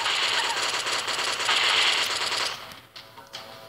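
Rapid automatic gunfire from weapons in a bounty hunter video game boss fight rattles loudly and continuously for a few seconds, then breaks off into scattered fainter shots.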